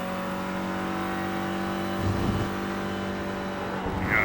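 A Clio Cup race car on the Spa circuit in iRacing drones at steady engine pitch, then a brief dip and rise marks a gear change, loud and continuous with no talk.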